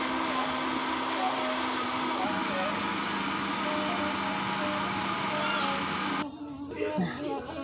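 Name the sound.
blender grinding spices and coconut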